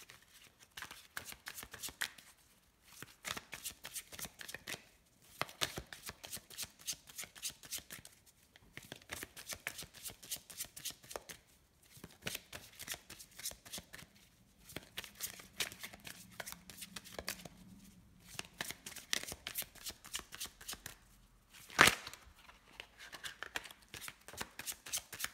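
Oracle cards being cut and shuffled close by: repeated bursts of quick riffling and papery slapping separated by short pauses, with a single sharp tap near the end and no talking.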